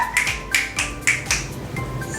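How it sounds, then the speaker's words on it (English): Sharp finger snaps crack out one after another in a loose, quick rhythm, close and clear with no talking. "stop the snapping"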